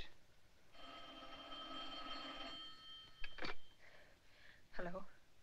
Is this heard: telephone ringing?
yes